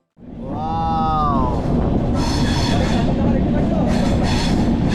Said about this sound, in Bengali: ট্রেন এখন চলেছে গুলমা ফরেস্টের ভেতর দিয়ে